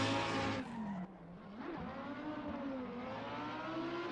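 A Lamborghini drift car at full throttle during drift testing, its engine roaring steadily with high, wavering tire squeal from the sliding tires throughout, close and loud.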